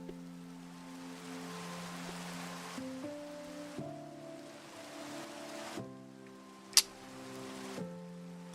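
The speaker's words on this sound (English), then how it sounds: "And it's raining." Minecraft rainfall over an ocean makes a steady, even wash of hiss beneath layered game music notes, with one sharp bright ping partway through and no voices.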